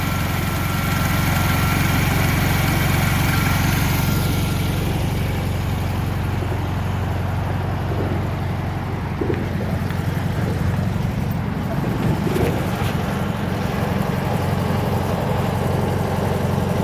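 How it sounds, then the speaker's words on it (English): The engine of a 1974 Volkswagen Super Beetle runs at a steady idle, a loud continuous low rumble with buzzing overtones, and faint handling noises on top. "Engine runs really good."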